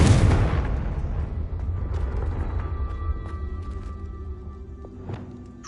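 A Confringo spell explosion in Hogwarts Legacy erupts with a loud, close, booming blast, then its rumble slowly fades away over several seconds with faint crackling debris.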